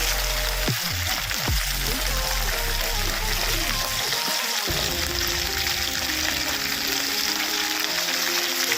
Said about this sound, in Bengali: ভেন্ডিগুলোকে একটু ভালো করে, একটু নাল থাকে এবং একটু ভালো করে নুন দিয়ে সামান্য হলুদ দিয়ে ভাজবো